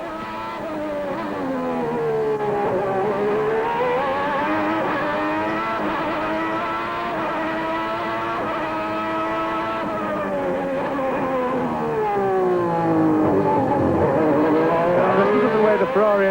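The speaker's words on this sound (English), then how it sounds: "The Ferrari engine struggles to pick up from low down and is not as clean as the Honda through the slow corners" A 1990 Ferrari Formula One car engine screams at the Adelaide Grand Prix, the high-pitched wail rising and falling through gear changes and slow corners, loud and continuous, while a commentator talks over it.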